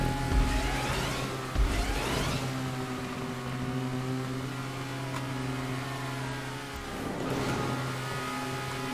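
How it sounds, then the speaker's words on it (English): Car engines in a GTA 5 Online race drone steadily with layered harmonic tones, swelling into rising revs near the start and again toward the end, continuous and fairly loud with no talking. "I can hear cars humming."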